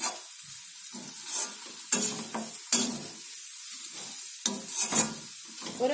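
Fried idli is stirred in a pan with amchur powder: repeated spatula scrapes and tosses over a light, continuous sizzle, close and fairly loud.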